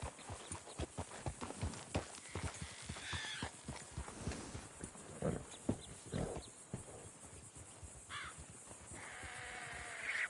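Horse hooves clip-clop in a quick, steady rhythm in the video game Red Dead Redemption 2, with crows cawing and a brief neigh in the background.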